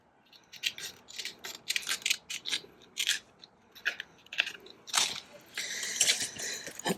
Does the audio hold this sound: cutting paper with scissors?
yes